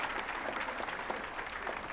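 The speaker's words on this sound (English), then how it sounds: "Give them a round of applause" Applause from a live comedy roast audience, a dense, fairly quiet wash of clapping that fills the short stretch evenly, with no clear individual claps standing out.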